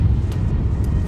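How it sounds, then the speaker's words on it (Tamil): A vehicle goes by with a brief, steady low rumble, close and fairly loud, with no voices. "இது ஒரு வண்டி வந்துச்சு."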